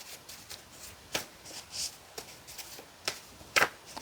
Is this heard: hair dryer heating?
no